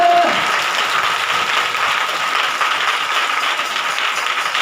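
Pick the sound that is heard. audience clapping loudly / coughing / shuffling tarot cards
audience clapping loudly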